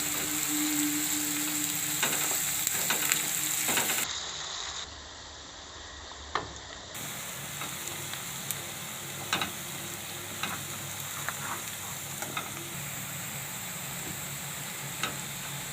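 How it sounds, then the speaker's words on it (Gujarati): Onions browning in oil over low gas, a soft continuous sizzle and crackle with sporadic light ticks and scrapes from stirring, briefly quieter partway through, then steady to the end. "ગેસ આપણે ધીમો કરી નાખીએ તો ડુંગળીને આપણે લાલ જેવી થવા દેવું"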